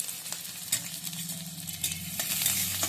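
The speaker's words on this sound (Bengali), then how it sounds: "এগুলোকে হালকা করে আমি ভেজে নেবো" Chopped onion and green chilli frying lightly in a pan, giving a soft continuous sizzle with occasional stirring clicks that grows slightly louder toward the end; no talking.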